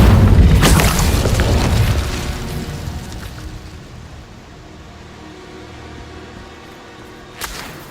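An Incendio fire spell is cast in Hogwarts Legacy, a loud fiery boom that bursts up and roars for about two seconds, then fades into a low rumble, with a brief sharp pop near the end.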